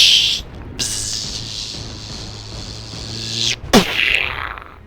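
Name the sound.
voice imitating torpedo sound effects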